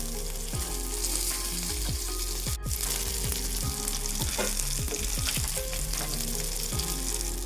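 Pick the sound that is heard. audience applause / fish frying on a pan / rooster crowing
fish frying on a pan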